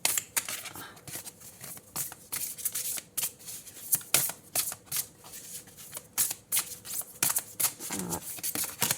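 Tarot cards shuffled and drawn, close crisp riffles and flicks coming in short bursts with small pauses between them, soft and near with no talking.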